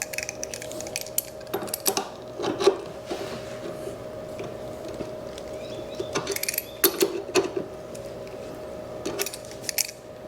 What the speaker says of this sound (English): we're going to go ahead and get this 1-inch lug nut taken off